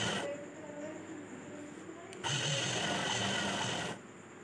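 A sewing machine stitches an A-line cut nighty with a steady mechanical whir that grows louder for a stretch in the middle, then drops back down.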